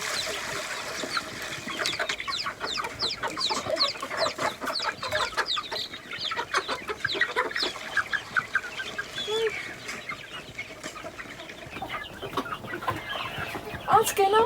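Hens clucking steadily at feeding time on a farm, a dense run of repeated close clucks with some crowing-like calls, with faint talk in the background.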